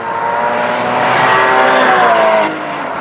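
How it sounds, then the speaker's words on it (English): A Porsche Cayman GT4 sports car driven hard, its engine note loud and sustained as it rises under acceleration, then easing back near the end, heard from close range with no talking. "The thing about Porsches is they're just so easy to drive fast."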